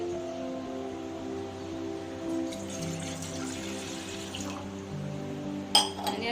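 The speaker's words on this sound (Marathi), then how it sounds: "एका पातेल्यामध्ये मी एक ग्लास पाणी घालते" A glass of water is poured briefly into a pot for a couple of seconds, faint against a steady low hum.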